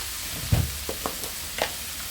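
Apples for a sweet-sour apple chutney sizzling in a pan with salt, with a steady frying hiss under several distinct scrapes and knocks of a spatula stirring.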